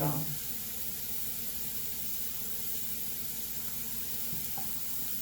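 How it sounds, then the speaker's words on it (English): Cooked bitter gourd sizzles in a pan with soft browned onions, a steady hissing fry that starts with a brief louder burst and then settles into constant crackle throughout, with no talking. "bitter gourd and fry nicely"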